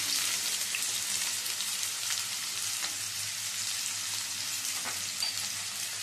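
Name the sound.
chopped onions frying in oil with caramelised sugar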